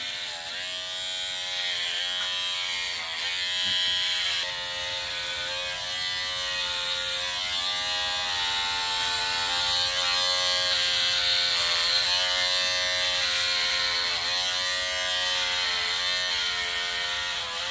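An electric clipper buzzes steadily and close up as it shaves off head hair and a beard, a continuous motor whine with slight shifts in pitch as it moves through the hair.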